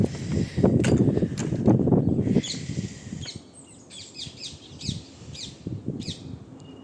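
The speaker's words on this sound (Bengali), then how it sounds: "দেখুন গাছগুলোতে টিয়া পাখিদের ঝাঁক।" A flock of parakeets calling from trees along a street in Hounslow on a cold, windy morning, sharp chirps and squawks scattered over the second half after a stretch of louder rustling and footsteps.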